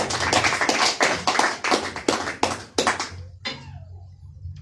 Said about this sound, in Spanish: Palmas a Cristo